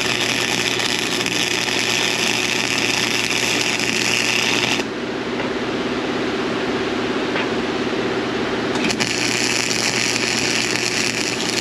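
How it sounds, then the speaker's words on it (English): Welding on a metal bracket: a steady, loud broadband crackle and hiss of the arc runs continuously, dropping briefly for a few seconds midway before resuming at full strength, with no talk. "Now I'm just really gonna weld the crap out of it."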